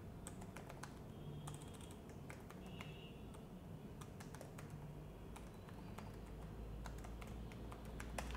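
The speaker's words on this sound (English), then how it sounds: "And I'll just type here something," Steady, fairly faint clicking of keys being typed on a computer keyboard, with irregular taps continuing throughout over a low background hum.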